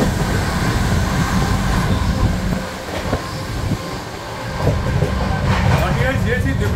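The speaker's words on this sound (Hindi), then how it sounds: "ये निकली 12423 डिब्रूगढ़ नई दिल्ली राजधानी एक्सप्रेस।" The 12423 Dibrugarh–New Delhi Rajdhani Express rushes past at close range with a loud, continuous rumble and rattling coaches, heard from another train at a crossing.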